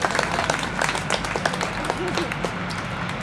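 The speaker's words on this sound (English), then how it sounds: "So a great hand for Kim" Audience applause at a poetry event in the small Swedish town of Tranås, a steady wash of clapping filling the clip alongside crowd noise and a few voices.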